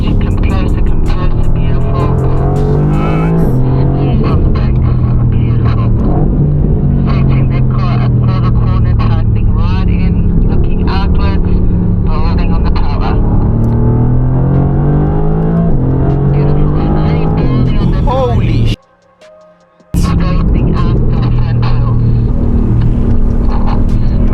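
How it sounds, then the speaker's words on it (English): Mercedes-AMG GT R Pro engine rumbling steadily from inside the cabin while driving, with rising and falling pitch as it revs, a brief silent gap near the end, and excited voices talking over it. "we are hopping in the AMG GTR Pro"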